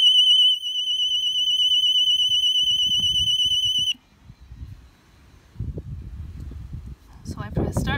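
A Husqvarna Automower robotic lawnmower sounds its security alarm, a loud, steady, warbling high-pitched electronic tone that holds for about four seconds and then cuts off, followed by faint handling noises and rustling outdoors.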